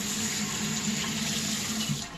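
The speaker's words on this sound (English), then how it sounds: "and then you want to put water in it" Tap water runs steadily into a pot holding about two pounds of oxtail and onions for kare-kare, a continuous close rushing splash with no talk.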